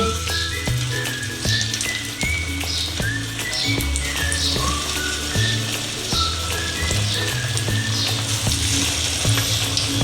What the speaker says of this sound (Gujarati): તો હવે આપણે એમાં ટિક્કી તળવા માટે મૂકી દઈએ।